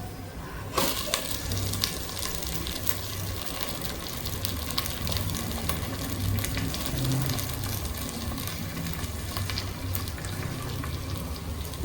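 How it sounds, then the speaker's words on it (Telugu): Onions and fresh mint frying in a pan of oil for chicken pulao, a steady close crackling sizzle with scattered pops throughout, no talking. "మన ఆనియన్స్ మంచిగా ఫ్రై అయ్యాయి. ఇందులో ఇప్పుడు పుదీనా వేసేసుకుందాము."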